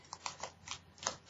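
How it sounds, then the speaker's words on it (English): Tarot cards being shuffled in a quiet room, a soft rapid riffling in several short bursts close by, with no talking. "I'm just going to give the cards a nice shuffle"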